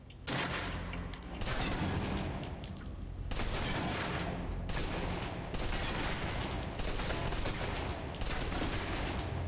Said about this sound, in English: Now, let's move on to the submachine gun. Okay. Now let's empty the clip.